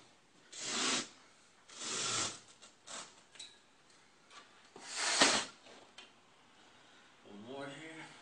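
Carpet is cut with a blade along a straight edge about an inch in from the side while making a seam, heard as several short scraping rasps spaced a second or so apart, close and moderately quiet.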